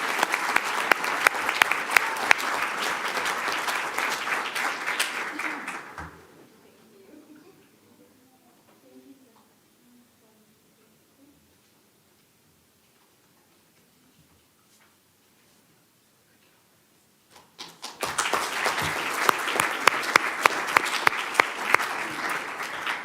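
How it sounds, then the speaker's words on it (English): Audience applause at a school board meeting: loud clapping for about six seconds, then near silence, then a second burst of applause near the end. "Let's give him a round of applause."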